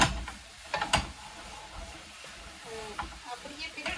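Soft sizzling and crackling of food frying in a pan, with scattered clinks and scrapes of stirring close by.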